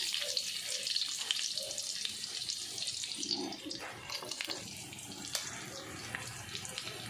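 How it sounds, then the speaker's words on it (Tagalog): Ginger frying in a hot pan after browned meat, cooked for green papaya in coconut milk, giving a steady close hiss and sizzle with small crackles and clinks throughout, no talk. "Gisa muna natin itong luya para malinamnam."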